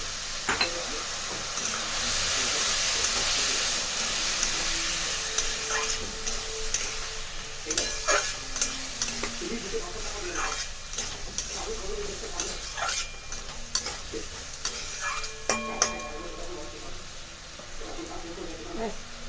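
Boiled peas are added to frying masala in a pan for a mushroom and pea curry. A spatula scrapes and clicks as it stirs, over a steady hiss of sizzling oil, close and busy throughout.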